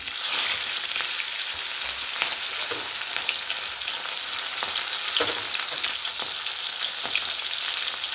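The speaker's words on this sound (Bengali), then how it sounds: "একটা একটা করে মাছ ভাজবো।" Pieces of satin fish frying one at a time in about two tablespoons of hot mustard oil in a wok, giving a steady, loud, close sizzle with small crackles and pops throughout.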